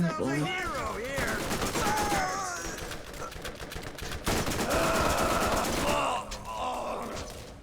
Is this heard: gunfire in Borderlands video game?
yes